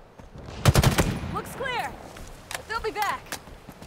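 Gunfire in Halo Infinite gameplay: a sharp cluster of loud shots, then a few scattered single reports, mixed with warbling electronic game effects and a voice talking over it.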